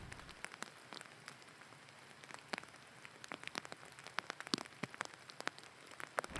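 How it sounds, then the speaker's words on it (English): Heavy rain patters steadily on leaves outdoors on a misty day, with dense scattered drops tapping sharply and close against a soft, continuous hiss. "It's raining quite heavily now"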